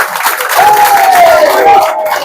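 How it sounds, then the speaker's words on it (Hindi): A crowd claps steadily at the prize ceremony of a cricket league final washed out by rain, a dense, continuous patter of applause with a voice and a faint whistle-like tone over it. "तमाम दोस्तों से गुजारिश है कि तालियां"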